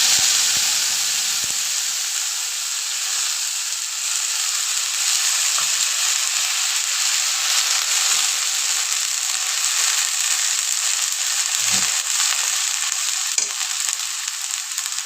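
Spice paste frying in hot oil with potol (pointed gourd) and potatoes gives a continuous bright sizzle and hiss, with a few faint clinks of stirring and no talking.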